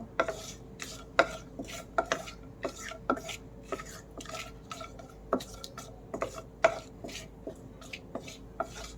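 Bay leaves and cardamom stirred gently in ghee in a pan, giving a steady run of sharp, close taps and scrapes of utensil against metal at an uneven rhythm, with no one talking.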